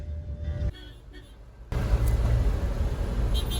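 Busy street traffic in Cairo, Egypt heard near a hotel by the Nile, a steady roar of passing cars and engines that jumps louder partway through, with brief horn-like tones and talking nearby.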